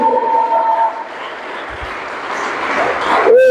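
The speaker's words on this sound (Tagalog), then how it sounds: "O minsan pang palakpak sa Diyos" Church congregation applauding during a Sunday worship service, a steady wash of clapping that swells toward the end, with a voice heard briefly at the start.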